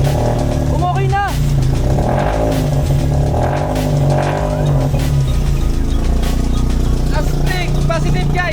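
A Toyota MR2 engine with a noisy muffler rumbles loudly and revs in surges, close and constant, while people talk over it.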